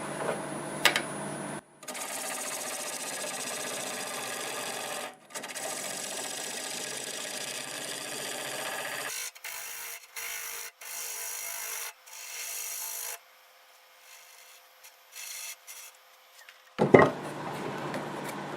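A wood lathe runs with a steady scraping drone as a tool hollows out a cracked end-grain wooden bowl, stopping and starting in several long bursts, then quieter brief passes.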